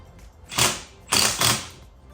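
Ratchet tightening lug bolts during a rear wheel bearing replacement on a Mitsubishi 3000GT, giving three close, loud bursts of rapid clicking separated by brief pauses.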